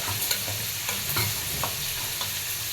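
Rice sizzles steadily in a hot pan, with repeated soft scraping strokes as it is stirred, close and continuous with no talking.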